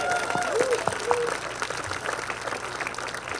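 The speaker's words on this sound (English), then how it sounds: "let's give a rousing round of applause" Audience applause for the IDF during a rabbi's talk, continuous crowd clapping with a few whistles near the start, holding at a steady level throughout.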